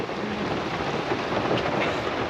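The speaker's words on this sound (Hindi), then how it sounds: "बारिश इतनी है।" Heavy rain falls at a forest campsite in Ottawa during bad weather, a loud, steady, dense roar with rumbling low undertones and no pauses.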